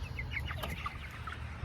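Young chickens, a straight-run mix of future roosters and hens, cluck softly and intermittently on a farm, with faint scattered calls over steady low background noise.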